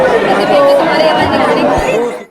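A dense crowd murmurs and chatters steadily at the Ayodhya temple, close and continuous, with many overlapping voices before the sound drops away at the end.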